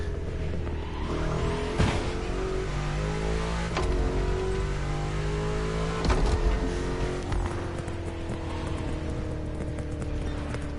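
A revving car engine in The Crew Motorfest drones with shifting pitch, broken by a few sharp cracking exhaust pops spaced seconds apart.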